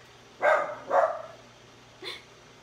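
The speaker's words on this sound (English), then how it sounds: "my dog likes to bark. He sees something outside." A pet dog barks indoors in a kitchen: two close, loud barks in quick succession, then a shorter, softer third bark after a pause.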